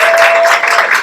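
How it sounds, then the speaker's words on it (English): Loud, dense applause from a good-sized crowd at a retirement gala, a steady wash of many hands clapping together that fills the whole moment with no speech over it. "I've never received applause for saying that before."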